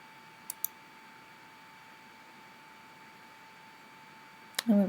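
A computer mouse clicks twice in quick succession, faint and close against a quiet hum, and a few more clicks come near the end.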